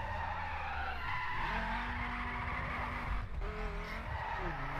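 A Ford Focus skids and accelerates in the racing game The Crew, with loud, steady tire squeal over a continuous engine roar that rises and shifts in pitch.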